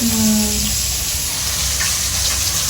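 Fish frying in a pan of hot oil, giving a steady, dense sizzling hiss that stays close and fairly loud throughout, with no voices.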